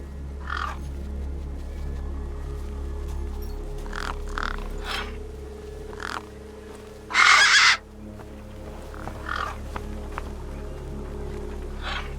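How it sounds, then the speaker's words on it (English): Gang birds in the video game Beyond a Steel Sky caw several times at irregular intervals, one louder, harsher call standing out midway, over a low steady ambient drone, with no talk. "The gang birds were eyeing up the corpse hungrily."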